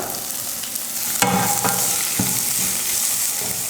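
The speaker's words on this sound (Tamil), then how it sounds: "வெங்காயத்தை அதிக நேரம் வதக்க தேவையில்லை, இந்த அளவுக்கு வதக்குனா போதும்." Chopped onion, curry leaves and coriander sauté in a pan with a continuous close sizzle, broken by a few sharp scraping stirs; no voices.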